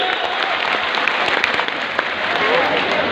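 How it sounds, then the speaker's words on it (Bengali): A large audience at a college's silver jubilee opening ceremony applauds loudly, thick steady clapping that runs throughout with a murmur of voices beneath. "বড় একটা আয়োজনের উদ্বোধনে একটু সজোরে করতালি চাই আরো একবার জোরে সবার কাছ থেকে।"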